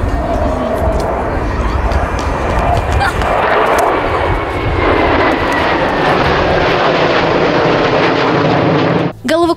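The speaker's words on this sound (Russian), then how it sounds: "Единственные в мире, кто выполняет трюки в воздухе на боевых истребителях." Fighter jets roar overhead at a Russian aerobatic airshow, a loud sustained jet-engine rumble that swells and holds for most of the stretch before cutting off abruptly near the end.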